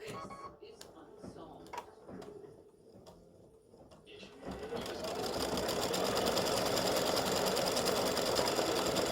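An embroidery machine starts up and stitches a purple script-font word into a Mardi Gras gnome filled design, a dense continuous rattling whir after scattered handling clicks and a quiet stretch at first.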